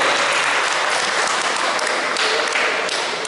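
An audience at an African Day community gathering in Stone Mountain, Georgia claps in a dense, sustained burst of applause, loud and close, with a few voices faintly mixed in.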